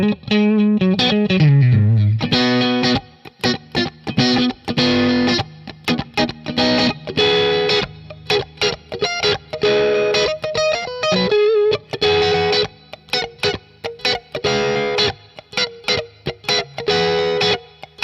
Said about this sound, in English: Who doesn't love some clean with the compressor?